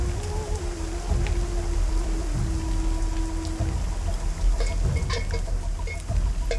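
Rain leaking through a tent, a steady close wash of drips and patter with a continuous pouring texture, holding evenly throughout alongside a faint sustained tone.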